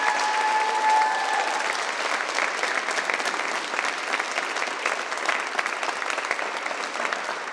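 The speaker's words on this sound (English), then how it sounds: "Can we please give these fabulous women a round of applause?" An audience at a university book store event breaks into sustained applause, a dense, even wash of clapping that holds steady throughout with a faint tone briefly at the start.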